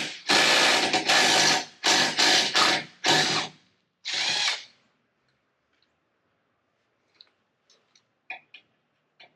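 An impact wrench hammers at bolts on a GoRhino BR20 rear bumper of a Ford F250, with five loud, close bursts in quick succession, then a longer one before it stops and only faint clicks and taps remain.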